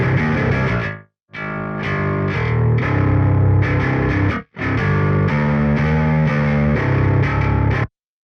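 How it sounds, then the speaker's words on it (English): Bass guitar played through a guitar amp simulation cranked to extreme distortion, giving a loud, fuzzy, saturated tone in sustained chords that cut out abruptly twice before a final stop. "just a totally different and more extreme distortion, because it's a guitar amp"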